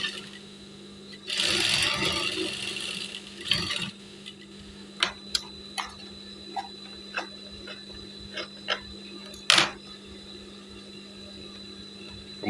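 A sewing machine stitches a straight seam on a women's Korpri uniform: a close whirring run followed by scattered ticks and clicks of handling the fabric, with no talk.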